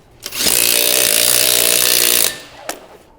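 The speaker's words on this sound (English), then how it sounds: "Snug the lug nuts using a 19mm socket with the electric impact wrench." On a 2017-2021 Honda Civic, an electric impact wrench with a 19mm socket snugs the lug nuts in one loud, close, continuous hammering burst of about two seconds, followed by a brief short rattle.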